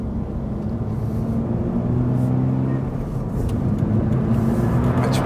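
Naturally aspirated Toyota GR86 engine pulling hard under throttle, a steady low drone with rising tone heard from inside the cabin, loud and continuous while a voice speaks briefly over it.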